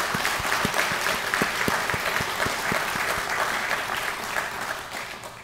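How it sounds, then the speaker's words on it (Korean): A congregation at a Won Buddhist dharma service claps in encouragement, with a dense wash of applause and some sharper individual claps standing out near the front, steady throughout before easing off slightly at the end. "그분들을 위해서 격려의 박수를 치고 와야 될 것 같습니다"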